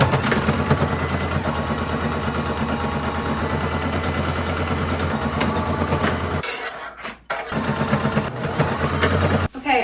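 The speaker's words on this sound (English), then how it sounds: "Now we can sew a straight stitch down the center of the back along with a straight stitch on the neck piece." A sewing machine runs a straight stitch down the back seam and neck piece of a thrifted garment, a steady close whirring hum that halts briefly near the end and then resumes.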